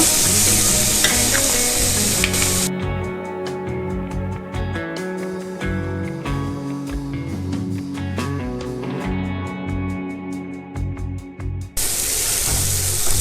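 Chopped tomatoes sizzle and fry in a pan for egg chowmein, a steady loud crackle with a brief quieter stretch in the middle and repeated stirring scrapes, no voices.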